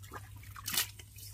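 Water is poured over live fish bait beside a Sundarban river: a short, close splash and trickle over a low steady background hum.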